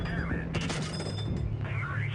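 Video game gunfire at a cruiser tank, a full magazine emptied in a steady mechanical rattle with clicking, metallic action sounds, loud and close, with no talking.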